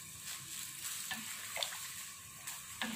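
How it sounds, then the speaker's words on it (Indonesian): A spoon scrapes and stirs through a simmering pot of coconut milk for egg rendang, soft clinks and swishes over a faint bubbling sizzle; quiet and close, no voices. "Nah, ini harus diaduk terus ya sampai dia mendidih kembali."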